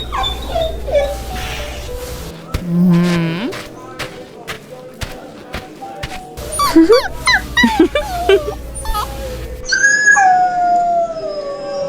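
A dog howls long rising and falling notes and then whimpers in short, wavering cries, close and fairly loud, with brief gaps between bursts and some voices present.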